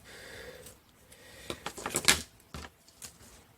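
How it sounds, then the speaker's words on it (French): Scissors snip through paper while decorating a planner: a cluster of quick, crisp cuts in the middle, with a few scattered snips and faint rustling before and after. "Des ciseaux qui coupent, c'est mieux"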